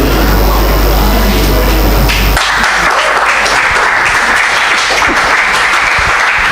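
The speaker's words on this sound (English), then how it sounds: "Another round of applause for her, please." Loud, sustained applause from an audience at a live poetry performance, a dense wash of clapping that carries on steadily without a break and with no talk over it.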